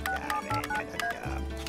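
Telephone keypad tones beep in a quick run as a number is dialed in a French-dubbed cartoon, a clear sequence of short electronic dial pips with no talking.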